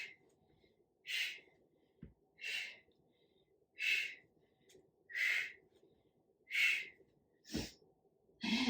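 Heavy rhythmic breathing during a kickboxing leg workout, about seven forceful exhales spaced roughly a second apart, close and clear, with occasional soft thumps of movement between breaths.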